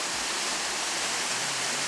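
A waterfall cascades with a dense, steady roar of white-noise rushing water that stays unchanged and fills the whole moment, with no talk.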